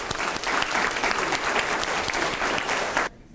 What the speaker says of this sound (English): Now let's give a round of applause for everyone who continue to